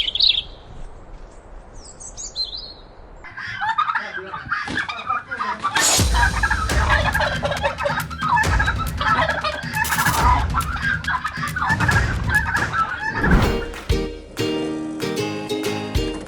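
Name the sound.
turkeys gobbling on a farm in Bantul, Yogyakarta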